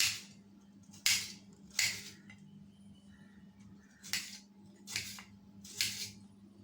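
A knife chops peeled white coconut into pieces on a kitchen board, six or seven sharp, crisp cuts spaced irregularly over a low steady hum, no talking.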